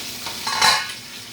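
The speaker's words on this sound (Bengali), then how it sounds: "আমার অলমোস্ট মাছ ফ্রাই হয়ে গেছে" Fish frying in a pan gives a steady, close sizzle with a brief louder burst of spattering as the pieces are stirred or turned, and no voices are heard.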